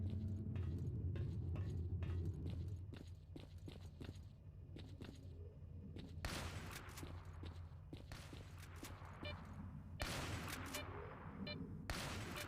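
Shotgun blasts fired at snipers in S.T.A.L.K.E.R. Call of Pripyat, sharp loud bursts scattered among clicks and footsteps, with several heavy shots near the middle and end amid other combat noise.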